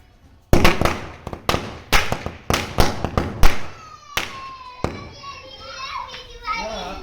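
Firecrackers bursting at a Diwali celebration in North India, a rapid series of sharp loud bangs close by, followed by a whistling rocket-type firework trailing off, with children's voices and chatter underneath.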